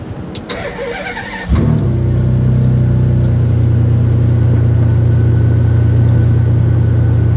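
Brief mechanical clicks and whirring, then a Ferrari Enzo engine catches and roars, settling into a loud, deep, steady idle.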